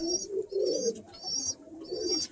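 Birmingham Roller pigeons cooing close by in a loft, low throaty coos in repeated phrases, with a high steady tone sounding on and off above them.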